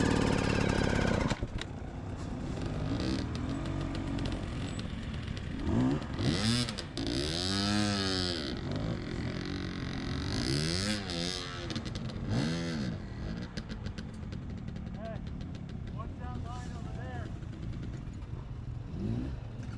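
Enduro dirt bike engine revving and bogging as the rider feathers the clutch climbing small uphill sections at a hard enduro race in Moab, a loud, continuous close engine with rising and falling revs.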